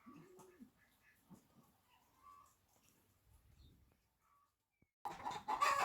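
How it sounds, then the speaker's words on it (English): Hens clucking inside a chicken coop where broody hens are kept, with scattered, moderately close clucks that give way to a sudden loud burst of flock noise near the end. "So things are pretty noisy over here right now in the coop"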